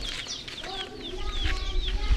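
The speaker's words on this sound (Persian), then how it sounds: "اینا جوجه مرغه" Chickens and chicks in a Gilan poultry setting, a steady series of high, thin peeps overlapping with low clucks, close and fairly soft, with a few low thumps underneath.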